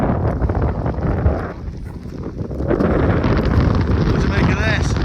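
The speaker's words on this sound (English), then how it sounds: "A bit windy." Strong wind buffets the microphone on Pen Y Fan mountain, a loud, constant roar that swells and dips throughout, with people talking underneath.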